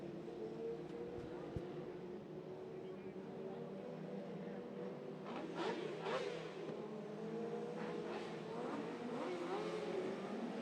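600 mini sprint race cars run wheel to wheel on a dirt track, engines droning steadily with rising revving surges mid-clip, heard under continuous race commentary.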